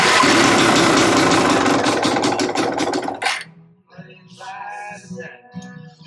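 A Yamaha YZ250 two-stroke dirt bike fitted with an electric starter fires up and idles loudly with a rapid rattling beat for about three seconds, then cuts off, followed by someone talking nearby.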